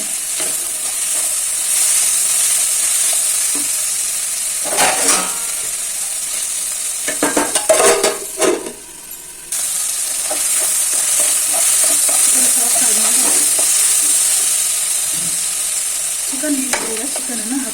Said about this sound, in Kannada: ನೀಟಾಗಿ ಫ್ರೈ ಮಾಡ್ಕೋಬೇಕು ಈರುಳ್ಳಿ ಎಲ್ಲ ನೀಟಾಗಿ ಬೇಯಬೇಕು